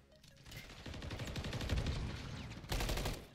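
Rapid automatic gunfire in Call of Duty Modern Warfare 3 ranked play, a dense rattling burst building to a steady close volley with a louder blast near the end.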